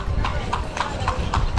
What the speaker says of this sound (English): let's just show you how you pass a horse-drawn carriage in Cuba